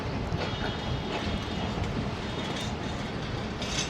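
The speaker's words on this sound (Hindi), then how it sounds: "ये 18 डाउन मिल्लत एक्सप्रेस है जो कि अभी अभी हैदराबाद जंक्शन से रवाना" The Millat Express pulling away from Hyderabad Junction, a continuous dense rumble of rolling railway carriages with faint rhythmic clatter of wheels over joints, heard close and steady throughout with no talk.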